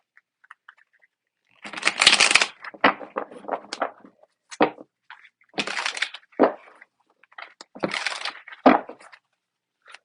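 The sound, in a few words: deck of tarot cards being shuffled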